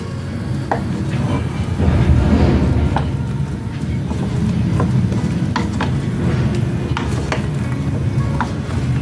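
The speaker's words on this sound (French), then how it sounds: "Quand on remue, on y va doucement pour ne quand même pas casser le sachet de thé." Apple compote with orange juice and a tea bag being stirred gently in a pot, soft repeated scrapes and taps of a spoon over a steady low bubbling background, close by.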